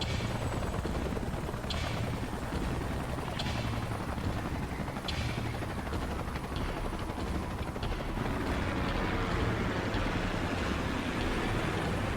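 Salvage helicopters arrive in Xenoblade Chronicles X, their steady rotor drone filling the scene continuously with broadband roar and a few sharp transient bursts layered over it, loud and unbroken throughout.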